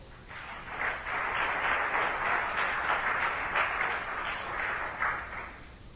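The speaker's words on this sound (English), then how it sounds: "Let's clap our hands for the Lord." Church congregation clapping hands together for the Lord, a steady sustained wash of many hands at moderate level throughout, with faint pulsing rhythm and no talk over it.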